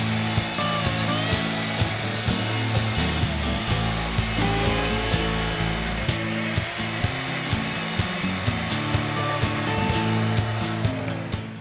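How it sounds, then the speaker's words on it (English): A saw cuts steadily through a piece of scrap wood, a continuous loud rasping drone running unbroken for the whole stretch with no talk over it. "we will have Sam cut this piece of scrap wood"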